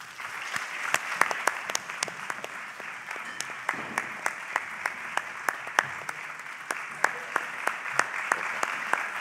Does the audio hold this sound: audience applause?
yes